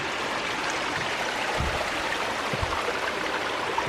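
Spring water gushes steadily out of a possible cave opening at St. Joseph Park in Saint Joseph, Tennessee, a constant close rushing wash with a couple of soft low thumps and no talk.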